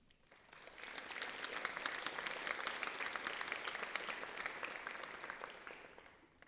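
Audience applause at a high school National Honor Society ceremony, a steady wash of clapping that swells after the first half second, holds evenly for several seconds and eases slightly toward the end, with no talking over it.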